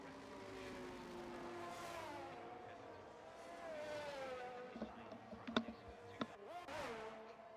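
F1 cars from the F1 23 racing game run out-laps at Melbourne, their engines giving a steady high whine that rises and falls in pitch, with a few short sharp transients near the end.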